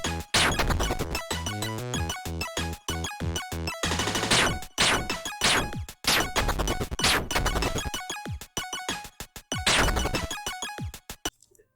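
Tiny Shooter, a tiny video game, playing loud, dense 8-bit chiptune music layered with rapid blips, hits and crash effects, continuous for several seconds before cutting off abruptly.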